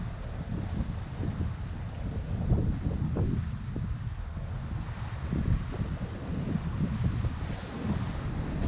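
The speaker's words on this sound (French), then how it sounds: "Il y a des grosses vagues." Steady wind and rough water rush around a sailboat on the open Atlantic between La Palma and Cape Verde, with heavy surges of big waves rolling and slapping at an irregular pace, no voices.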